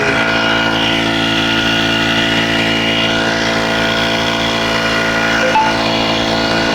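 A small, new spray pump engine runs steadily and loudly throughout, a constant droning hum with a brief blip near the end.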